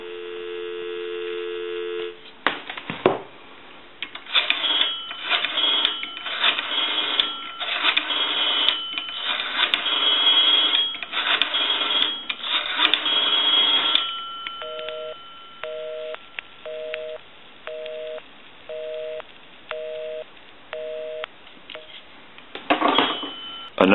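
A steady telephone dial tone sounds over a thin line on a Northern Electric three-slot payphone, then clicks and noisy handset sounds, followed by a repeating beeping busy signal in even pulses.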